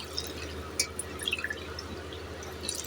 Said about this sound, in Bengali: যেই কাপ মেপে আমি চালটা নিয়েছিলাম ওই কাপ মেপেই আমি জলটা দিচ্ছি।